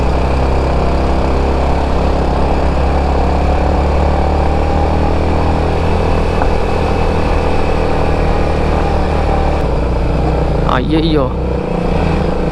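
A motorbike engine labours up a steep slope on a road to a waterfall in Idukki, a steady loud drone filling the whole stretch while a voice briefly exclaims near the end.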